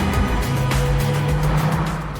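An early-1980s Mazda RX-7 with a 1.2-litre twin rotary engine drives past, a smooth, buzzing engine note held fairly loud and steady for a couple of seconds.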